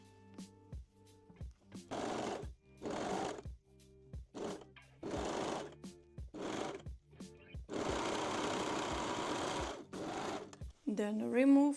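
A sewing machine stitches the back crotch seam of lingerie panties in a series of short, close bursts of rattling whir, followed by one longer steady run and a final brief burst.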